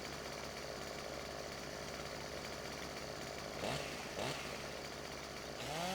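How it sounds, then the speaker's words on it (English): Chainsaw cutting in Farming Simulator 2017, a continuous buzzing engine drone that briefly surges twice as it bites into wood, then revs up again near the end. "It is a pain to be crouched down and use the chainsaw with a controller"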